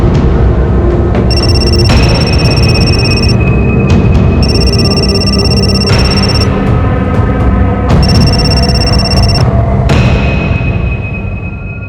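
A loud electronic telephone ring repeats in regular bursts with short pauses between, over a heavy low rumble, fading slightly at the end.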